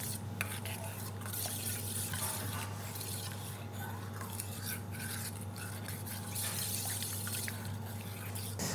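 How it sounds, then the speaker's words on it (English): A teaspoon quickly mixes French toast egg batter with vanilla and cinnamon in a bowl, a faint, steady swishing and light clinking of metal against the bowl under a constant low hum, with no voices. "I'm going to use a teaspoon and mix quickly all the ingredients together"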